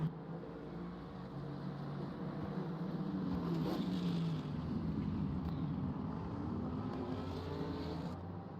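Racing cars at a Bahrain Grand Prix circuit, with an Aston Martin and an AMG in the field, produce a continuous engine roar that swells as a car passes and then fades into the distance.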